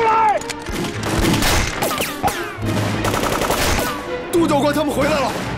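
Heavy gunfire in a battle scene from a Chinese war film about fighting Japanese troops: dense, loud overlapping shots and bursts run throughout, mixed with shouted voices and music.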